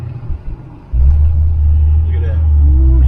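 A car that tends to spin one rear wheel idles, then pulls off and drives down a road, its engine note rising into a steady loud hum with a brief whine near the end.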